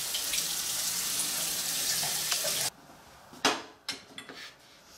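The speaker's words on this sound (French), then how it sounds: "je vais laver mes fraises" Strawberries rinsed under a running kitchen tap, a steady rush of water into a sink for the first half, then the flow cuts off and a few sharp clinks and splashes of fruit and dishes follow, close by.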